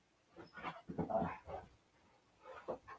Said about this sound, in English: Look, you can come get this dog, Angie, because she won't settle down.